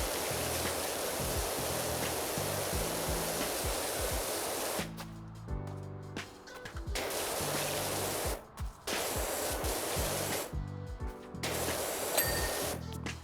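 High-pressure spray from a power washing video game nozzle blasting a gutter, a loud steady broadband hiss that cuts out briefly several times as the trigger is released, with faint music or tones underneath.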